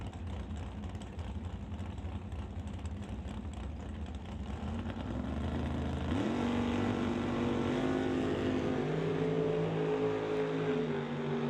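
A 1953 Corvette drag racing a green Camaro on a drag strip: a distant engine rumble builds, then a loud revving roar surges in partway through and holds with rising pitch.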